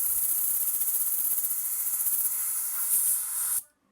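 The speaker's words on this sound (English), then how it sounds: "and when I sprayed it," Spray paint hisses from an aerosol can into the inside of a whirligig lure, a close, steady hiss with a slight pulsing flutter lasting several seconds before cutting off abruptly.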